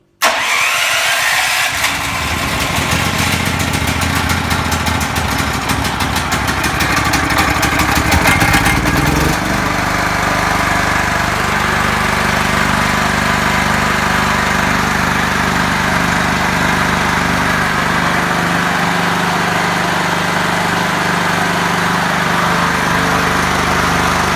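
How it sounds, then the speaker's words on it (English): Portable generator started with choke and switch, a sharp start then a loud close engine roar that settles into a steady idle hum running alone for the rest of the stretch. "I'm just going to switch the Jenny on."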